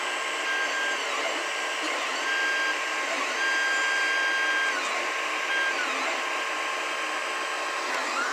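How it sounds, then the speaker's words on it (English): A 3D printer fitted with a TPU extruder prints steadily, its stepper motors giving a close, continuous whirring whine with shifting tones as the moves change, and no speech. "And there it is, printing."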